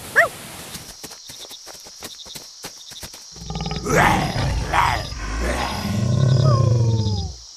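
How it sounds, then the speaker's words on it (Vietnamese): A tiger roars in the distance in an animated Vietnamese fairy-tale setting; a low, rolling roar and grunting build over the last few seconds after a quieter stretch of clicks and soft sounds. "Mày đừng sợ, tiếng hổ gầm ở xa lắm."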